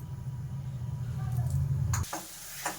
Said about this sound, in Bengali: আজকে ওই ম্যাগিটা ফ্রাই করব, চাউমিনের মতো করে ফ্রাই করে